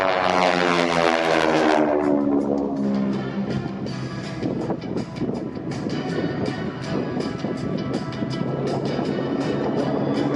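Propeller aerobatic aircraft of the Titan Aerobatic Team at the 2024 Dayton Airshow, a loud droning engine sweeping past with a falling pitch early on, then a steady roar as the planes keep flying, with no talk.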